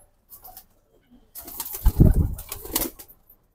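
A pair of military-breed pigeons, a male and a female, give a few soft coos and wing flutters up close, with quiet gaps and a louder burst of activity in the middle.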